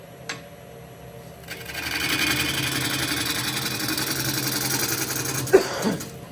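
A gouge with an Irish grind cuts the outside of a wooden bowl spinning on a lathe, giving a steady close whirring, scraping drone that swells after a quiet start and holds, with a short knock near the end.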